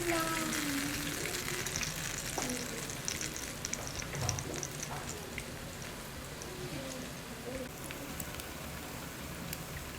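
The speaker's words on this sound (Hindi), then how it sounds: "एक साइड से ब्राउन होने पर अब इनकी साइड चेंज करते जाएं ताकि ये अच्छी तरह आलू डीपली फ्राई हो जाए।" Potatoes deep frying in hot oil, a steady dense sizzle and crackle running throughout with occasional faint stirring clinks, close and continuous with no speech.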